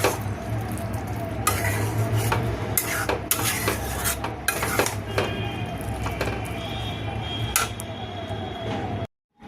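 Grated paneer gets stirred into a chana masala gravy, with repeated close scraping and clinking of a spoon against the pan over a low bubbling simmer, ending in a sudden cut to silence.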